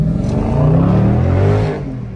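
A Dodge Challenger Scat Pack's engine revs hard while driving, a loud rising and falling roar with clear harmonic sweeps, easing off near the end.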